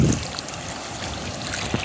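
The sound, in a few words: fast-flowing rainwater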